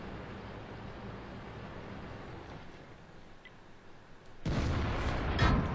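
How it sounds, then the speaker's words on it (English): Artillery fire in a tank battle game: a low rumbling backdrop, then a sudden heavy boom from a nearby shell that leaves a loud, sustained roar and crackle afterward. "Now we got to deal with artillery too."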